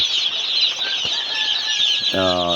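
A flock of first-day broiler chicks in a brooder keeps up a dense, continuous high chorus of cheeping and peeping close by, with one louder call near the end.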